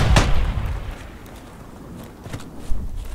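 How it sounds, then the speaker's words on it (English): Grenade blasts in the World War I shooter Beyond The Wire at Chateau-Thierry, a heavy boom at the start followed by rumbling aftermath and a sharper pop near the end, with no talking. "I've launched 3 grenades on it"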